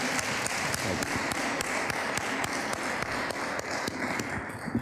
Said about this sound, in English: He deserves a round of applause today, everyone.